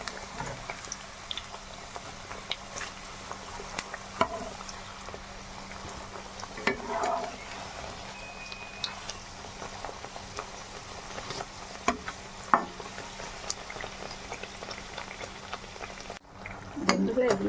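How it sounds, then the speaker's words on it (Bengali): Pieces of a Holi sweet dish frying in a pan, a continuous bubbling sizzle with occasional clinks and scrapes of a utensil, close and steady throughout, with a louder stir near the end. "এবার এইরকম করে ভেজে নিতে হবে।"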